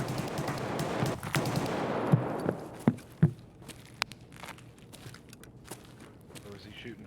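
Gunfire in a video game: a few sharp shots crack out amid dense noisy action early on, followed by scattered softer pops and footsteps, with voices talking over the scene.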